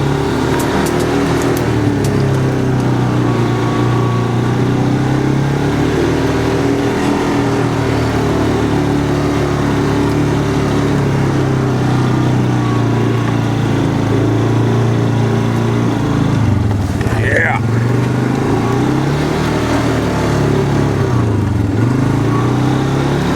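A 2014 Polaris Sportsman Ace ATV drives in low-range four-wheel drive, its engine droning steadily and close throughout, with a brief dip and rise in pitch partway through as it works over terrain.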